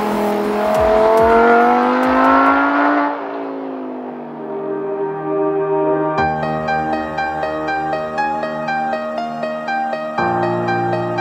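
A Nissan S14 drift car revs hard for a few seconds, a loud rising engine snarl that fades away, followed by steady music.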